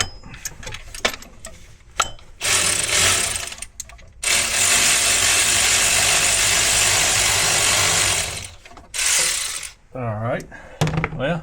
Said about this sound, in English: I'm going to try to get my electric ratchet over here